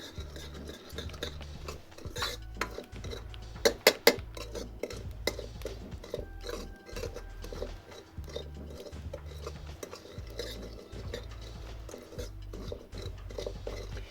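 Jhangora millet roasting in ghee in a pot over a chulha, stirred with a spoon that scrapes and clinks against the metal in steady repeated strokes, with a few sharper knocks midway.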